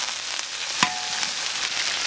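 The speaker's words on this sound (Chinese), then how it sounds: "给它炒一下啊" Lean pork stir-frying in a wok with oil and ginger for a sour long-bean claypot rice dish, giving a steady bright sizzle with one sharp clank of a utensil against the pan partway through.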